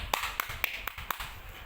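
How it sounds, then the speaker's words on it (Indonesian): Scattered hand claps from a few students in a classroom, sharp separate claps roughly every quarter second, fairly quiet and thin rather than a full ovation. "Kita kasih aplaus bagi yang menjawab dan menambahkannya"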